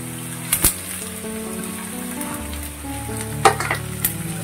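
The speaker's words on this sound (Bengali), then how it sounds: "ডিমটাকে ভেজে রাখলাম," Fish roe sizzling and frying in a pan with onions, a steady crackling hiss with a few sharper spatters and stirring clinks, close up and without talk.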